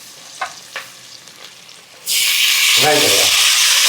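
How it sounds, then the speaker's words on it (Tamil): Onions stirred in a hot frying pan for a Tamil home-cooked meal: a couple of light taps and quiet scraping, then a sudden loud, steady sizzle as they hit the oil, with stirring scrapes running underneath. "சரி நம்ம வெங்காயத்தை சுத்துப்போம்"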